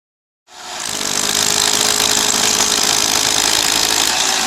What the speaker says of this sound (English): yeah, about to drill